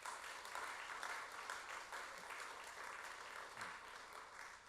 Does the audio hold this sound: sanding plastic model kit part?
no